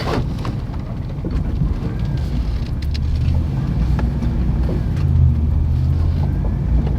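A van cruises along with a steady low road and engine rumble, tires hissing on what sounds like a wet surface, with no talking over it.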